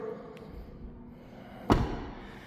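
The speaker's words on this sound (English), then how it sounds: "So let's shut this door" A rear door on a 2026 BMW X3 M50 swings shut with a single solid thud, heard close up after a quiet moment with a faint tap earlier on.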